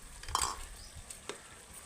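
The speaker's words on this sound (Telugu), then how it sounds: "ముద్ద ముద్ద వేగిందని టమాటా పేస్ట్ వేసుకుంటున్నాం ఇందులోని బాగా వేసుకుందాం" Tomato paste fries in oil in a pan for a coconut-milk fish curry, with a faint sizzle under a couple of brief stirring scrapes and soft clinks, no voices.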